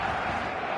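Stadium crowd roaring steadily at match day in the eFootball video game, a dense, loud wash of voices with no breaks across the short stretch.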